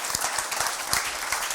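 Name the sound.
audience applause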